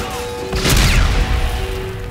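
Suppressive gunfire and explosive booms in a Call of Duty: Infinite Warfare battle on Europa, a loud burst of blasts and crashing impacts peaking midway over a steady battle hum.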